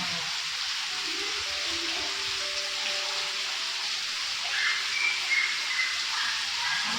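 Rain falling outdoors, a steady, even hiss of drops on surfaces that continues throughout at moderate distance, with faint sounds rising briefly near the end.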